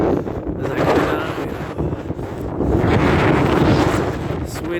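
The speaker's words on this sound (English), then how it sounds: "it's windy." Wind gusts outdoors in the north, buffeting the microphone with loud broadband roaring that rises and falls in waves.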